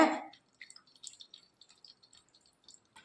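Heated herbal hair oil strained after warming, dripping in a series of soft, faint, irregular drips, following a brief louder pour or rustle at the start.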